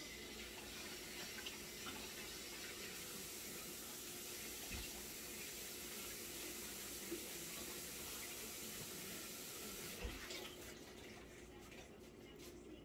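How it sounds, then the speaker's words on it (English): Tap water runs steadily into a measuring cup being rinsed in a kitchen, a continuous close hiss that shifts in tone and then drops away near the end. "Let me rinse this out because I think it's got something sticky in it."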